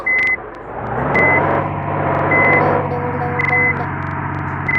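A vehicle shifted into reverse gives a steady series of evenly spaced high electronic beeps, about four or five in a row, over a continuous engine rumble, with a voice speaking beneath.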